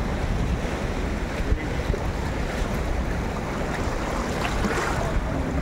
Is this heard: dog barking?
no